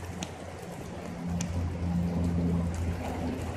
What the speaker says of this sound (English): Finally raining here.